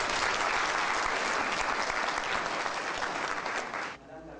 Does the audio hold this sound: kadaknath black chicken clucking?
no